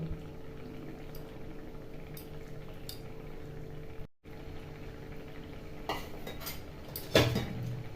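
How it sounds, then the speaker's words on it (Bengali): Kanla fish curry gravy bubbles in a pot with a low, steady simmering hiss, joined near the end by a few close metallic clinks of a utensil against the pot. "ফুটে উঠেছে"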